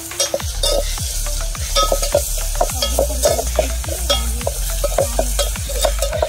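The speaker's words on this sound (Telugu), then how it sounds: "మాడిపోకోకుండా ఎప్పటికప్పుడు తిప్పుకుంటూ ఉండండి." Half a spoon of ginger garlic paste fries in hot oil for a village-style papaya curry. A steady sizzle runs throughout, while a spoon scrapes and stirs the pan in quick, regular strokes, close and clear with no talking.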